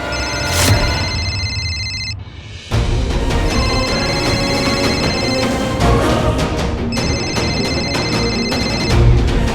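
A phone ringtone repeats in bursts with brief gaps, ringing loudly over a busy musical background.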